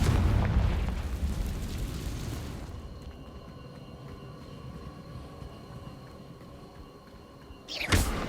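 Confringo spell blast in the Hogwarts Legacy video game, a rumbling boom that fades into a quieter, lingering tonal hum, followed by another short burst near the end, with no voices.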